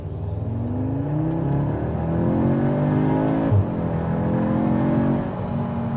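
An Audi S3 accelerates hard, its engine note rising steadily through the revs, then a gear change near the midpoint before it climbs again, loud and close from inside the car.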